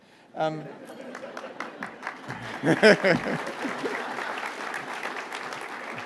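Audience applause at a public service awards ceremony, a warm crowd clapping steadily after a brief voice, with chuckles and chatter mixed in, sustained for several seconds.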